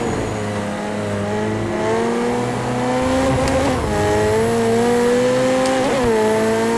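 A Porsche 918 racing in Project CARS 2 snarls with a loud, close engine note that climbs and drops through gear changes and braking, with no talking over it.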